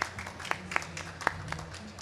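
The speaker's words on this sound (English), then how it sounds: "I would like to ask for a round of applause for her" Audience applause rises at a closing plenary panel on AI and finance, with a few distinct louder claps standing out over a thin, scattered patter for a couple of seconds.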